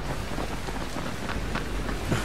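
Rain pours steadily in Dying Light, a dense hiss of falling drops with faint low rumbles of thunder underneath and no voices.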